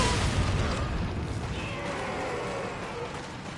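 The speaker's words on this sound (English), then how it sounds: "One little explosion, they all ran off." A broad, rumbling video game explosion in Resident Evil 4 erupts at the start, then decays into a steady noisy wash that lingers to the end, with no talking over it.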